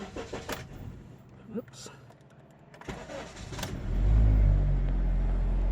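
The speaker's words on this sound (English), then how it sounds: "I'm going to start up the engine." A 2010 Honda Civic engine cranks and catches, then settles into a loud, steady low idle close by, after a few clicks and a short spoken exclamation.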